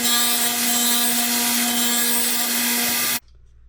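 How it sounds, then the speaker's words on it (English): Stationary sander smoothing a ganged stack of wooden end pieces to a radius, a steady loud abrasive whir with a constant motor hum that runs continuously for about three seconds, then cuts off abruptly. "so I'm going to gang sand them on the sander"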